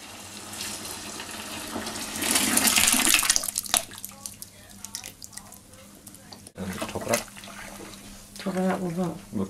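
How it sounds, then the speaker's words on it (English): Cold fresh water running from a tap into a homebrew fermenter holding boiled chocolate stout wort, a steady gushing splash that swells loud then eases, with sloshing and a voice speaking over parts of it. "we do that just by topping it up with cold fresh water"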